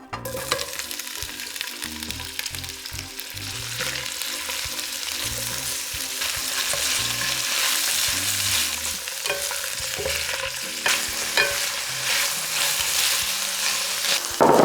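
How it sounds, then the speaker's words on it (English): Artichokes and asparagus sauté in olive oil after guanciale, a loud steady sizzle with repeated stirring and scraping in the pan, no voices. "we want to make sure we have a nice olive oil bed to saute our artichokes and asparagus well"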